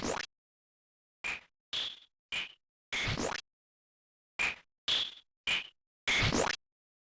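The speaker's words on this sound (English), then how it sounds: "She uses a range attack that looks and sounds like this." Nightmare boss ranged attack in Old School RuneScape, a series of sharp clickety-clack bursts in two groups of four to five quick hits each, crisp and close with silence between.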